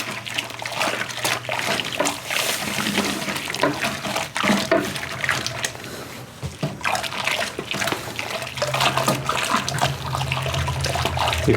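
Water is poured and stirred into a grocery-store bourbon grain mash, giving a continuous splashing and sloshing for the full length. The sound is loud and close, with small irregular surges and faint low hum underneath.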